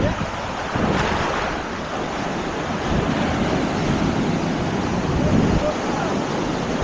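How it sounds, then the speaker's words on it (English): Surf from the sea pounds a hidden stretch of the San Diego coastline, a loud, constant wash of breaking waves mixed with heavy wind buffeting the microphone, with no clear talk. "But I am being beaten by the sea."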